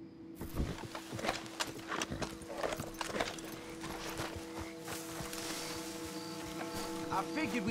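Horses clip-clop along a dirt road in Red Dead Redemption 2, a quick rhythm of hoof beats at close range over a low ambient hum, fading slightly as they slow to a halt.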